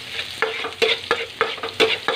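Garlic and onion sauté together in a pan for a simple sardine dish, sharp rhythmic spatula scrapes landing about every third of a second over a crackling sizzle, close and loud with no talk.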